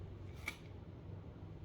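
A single short spritz of Victoria's Secret berry-scented body mist, a brief soft hiss of spray in a quiet room.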